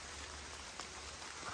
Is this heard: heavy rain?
yes